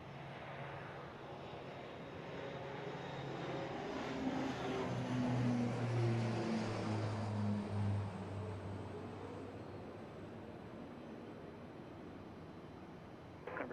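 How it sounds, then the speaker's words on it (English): A Beechcraft King Air 300 turboprop taking off from Dallas Love Field, its engine roar swelling to a loud peak midway through, then slowly fading into the distance, with no voices. "So that was, yes, a King Air 300 off to Austin, Texas."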